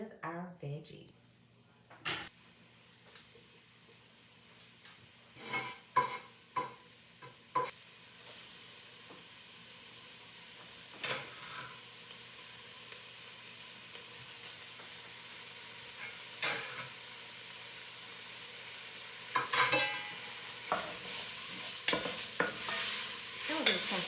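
Vegetables hit a hot pan for sloppy joes and are stirred around, giving faint sizzling with sporadic scraping and clattering strokes, and a voice speaks at times.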